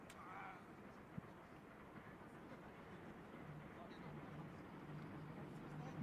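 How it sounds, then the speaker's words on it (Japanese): A low, steady rumble of a train running along the tracks swells gradually, heard from a distance beside a football ground at Omiya, beneath faint background voices. "列車が線路を走る音が聞こえてきます。"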